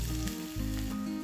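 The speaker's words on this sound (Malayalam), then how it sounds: "ഒരു പാത്രം ചൂടാക്കിയിട്ട് അതിലേക്ക് 1 ടേബിൾ സ്പൂൺ വെളിച്ചെണ്ണ ഒഴിക്കാം. ഇതിലേക്ക് ഇഞ്ചി പൊടിയായിട്ട് അരിഞ്ഞത് കേട്ടോ" Finely chopped ginger sizzles loudly in hot coconut oil in a pan, a steady close frying hiss without any voices.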